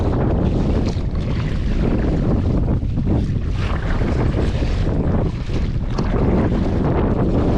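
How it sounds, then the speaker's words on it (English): Strong gusting wind buffets the microphone on a lake while kayaking in a Vibe Yellowfin 100, a loud, steady roar with choppy water slapping the hull underneath and no talking. "25, 30 mile an hour gust right now."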